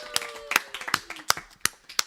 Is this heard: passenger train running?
no